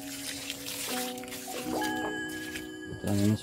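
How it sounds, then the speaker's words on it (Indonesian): Water is poured onto soil in a flowerpot while repotting a plant cutting, giving soft trickling and dripping sounds close by, with faint tonal background sounds and a brief louder splash at the end. "Kemudian kita siram dengan air secukupnya ya."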